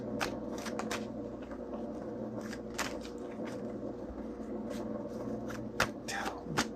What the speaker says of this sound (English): What am I shuffling these cards for?